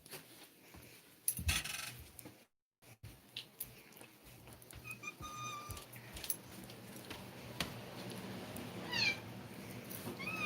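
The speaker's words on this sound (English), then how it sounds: "Really? You were fighting with my bear cats?" Cats fighting indoors: scattered meows and short yowls over a constant low hum and background clatter, fairly faint, with brief sharp scuffling bursts.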